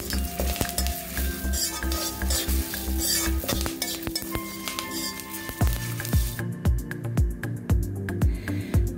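Coriander, chillies, sesame, curry leaves and garlic dry-roasting in a pan for a bitter gourd masala, with steady stirring scrapes and rhythmic spoon knocks against the pan over a soft sizzle, close and alone.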